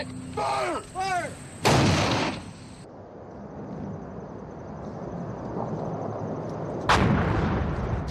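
Film gunfire after shouted fire orders: bursts of automatic weapon shots and booming blasts, loud and close, with a sustained rumble between volleys and another sharp burst near the end.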